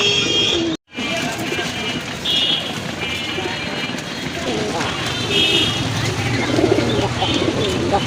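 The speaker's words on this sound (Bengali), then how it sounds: "এটা নর কবুতর দেখতে পাচ্ছেন ডাকতেছে" A male Raj Golla pigeon coos repeatedly, close by, over a busy background of other birds and murmuring human voices.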